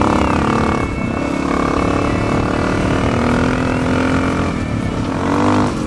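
A Honda XR650L motorcycle engine runs steadily and smoothly without sputtering, a loud, continuous close-up drone with slight rises in pitch as it revs.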